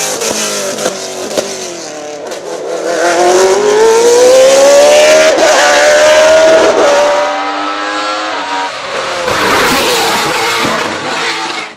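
A Judd flat-plane V8 running a different exhaust revs hard, its shrill wail climbing and then easing off, with loud, rough bursts at the start and again near the end, close and dominant throughout.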